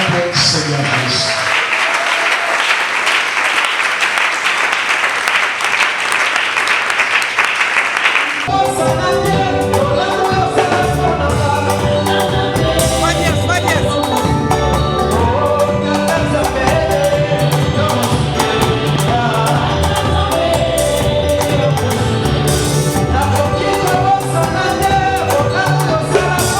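Congregation at a wedding nuptial blessing applauds and cheers loudly and continuously, a dense crowd roar with rhythmic clapping over music that swells after a quieter opening stretch.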